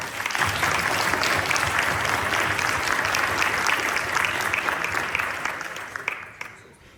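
Audience at a public meeting in Estonia applauding a speaker coming onstage, dense sustained clapping that holds steady for several seconds, then thins out and fades at the end.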